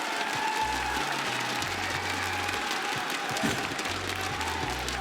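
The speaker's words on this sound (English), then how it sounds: "I can hear the crowd. There's a little bit of a rumbling going on behind me." An arena crowd at an esports finals applauds and rumbles steadily throughout, a dense wash of clapping and murmur. Low tonal stabs, likely music or bass cues, come through in the middle and again near the end.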